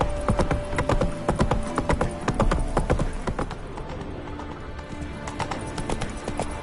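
Rapid, steady hoofbeats of the horse Roach galloping in The Witcher game, loud and close, with a faint musical hum underneath.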